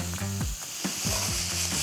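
Beef sizzles loudly in a hot pan with peppers and garlic while being stirred, with steady crackling frying noise and a few scraping stirs.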